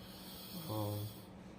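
A hospice patient lying in a single-room hospice bed breathes with a snore-like, rasping inhalation: one loud, throaty breath swelling mid-clip, close by, against a quiet room.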